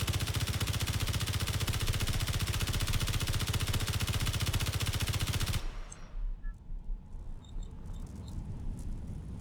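Rapid automatic gunfire from the Space Engineers video game rattles loud and continuous for about five and a half seconds, then cuts off abruptly into quieter scattered game sounds.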